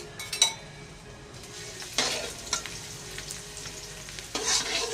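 Minced garlic fries in hot pork lard in a wok, giving a continuous close sizzle punctuated by scraping stirs and a few metallic clinks of the spatula against the pan, with no voices.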